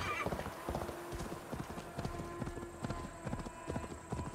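A horse's hooves clip-clop in a steady trot through Assassin's Creed Valhalla, with a short whinny near the start and faint game ambience underneath.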